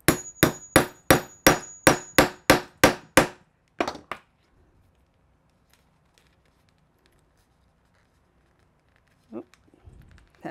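A hammer strikes a post setter into a small fabric purse, ringing out about ten sharp, evenly spaced blows followed by a couple more, then a long quiet stretch with faint handling noise.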